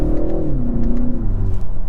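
A 2023 BMW 330i engine pulls hard under acceleration, its steady loud drone rising and shifting in pitch from inside the cabin.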